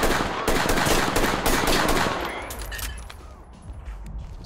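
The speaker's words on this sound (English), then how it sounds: "Oh, they're shooting the window!" Rapid automatic gunfire in the tactical shooter Ready or Not, loud and close, rattles for about two seconds, then thins into scattered fainter shots and clatter.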